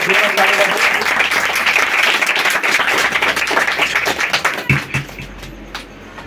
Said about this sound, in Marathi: एक जोरदार टाळी वाजून आपण प्रभूला धन्यवाद करूया